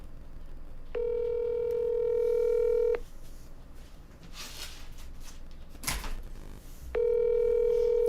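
Telephone dial tone sounds in two steady bursts of about two seconds each while a call is placed, separated by quieter room noise and a brief clatter.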